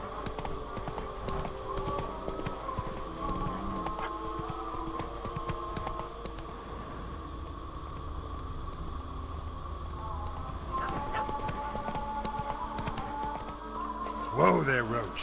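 Roach the horse clip-clops along in The Witcher 3: Blood and Wine. The hoofbeats trot at a steady rhythm beneath game music and voices, then rattle briefly near the end.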